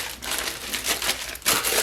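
Plastic wrap sheet crinkling as it is wrapped around a wet paper towel, continuous close rustling and crackling with a louder burst near the end.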